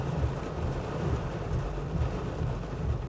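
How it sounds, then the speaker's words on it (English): Heavy rain pounds a car during a long highway drive, making a dense, steady, rumbling wash of noise with no gaps and no voices. "It looks like a lot of rain."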